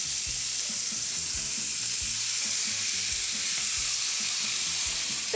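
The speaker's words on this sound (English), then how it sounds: "Grill pan is hot. I'm gonna give it a little drizzle of oil. I wanna hear that sizzle." Chicken breast sizzles steadily in a hot grill pan drizzled with oil, a close, even frying hiss with faint crackles throughout and no voices.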